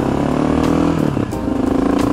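A Honda XR650L motorcycle engine idles loudly up close, a steady thumping single-cylinder chug with a brief dip in revs partway through and no talking.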